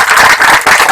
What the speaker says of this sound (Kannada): ಅದಕ್ಕೋಸ್ಕರ ನಾನು ಮೊದಲನೇ ಚಪ್ಪಾಳೆ ಹಾಕ್ತೇನೆ.